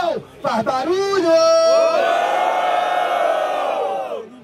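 A battle rap crowd erupts into loud cheers and shouts for a rapper, a swelling roar of many voices sustained for several seconds and then fading.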